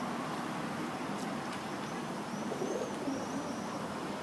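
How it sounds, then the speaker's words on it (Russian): Pigeons feeding on scraps of shashlik outdoors, soft cooing and a few brief wing flutters over a steady wash of nearby road traffic, fairly faint overall. "голуби едят шашлык."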